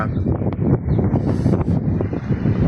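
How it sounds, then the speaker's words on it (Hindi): Strong, cold wind in the Saudi Arabian desert blowing loudly and continuously, buffeting the microphone with heavy low rumbling gusts and rustling. "हवा चल रही है बहुत ज़्यादा, सर्दी भी बहुत है।"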